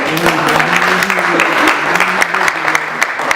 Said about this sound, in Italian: Facciamo un applauso per Ornella.